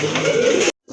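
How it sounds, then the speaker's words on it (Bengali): A pair of Jharna satin pigeons coo close by, a steady low murmuring warble that breaks off briefly near the end before resuming. "প্রথমে দেখতে পাচ্ছেন এক জোড়া ঝর্ণা শাটিন কবুতর"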